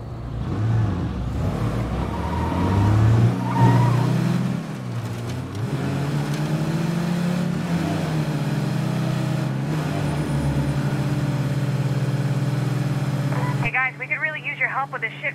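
A car driven in the zombie survival game State of Decay 2: a continuous engine drone that rises and settles, mostly under steady talking, ending with a short burst of different in-game sound.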